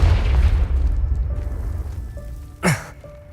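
A Confringo fire spell goes off in the video game Hogwarts Legacy. A low, rumbling boom fades slowly, then a short, sharp whooshing burst lands near the end, with no voices.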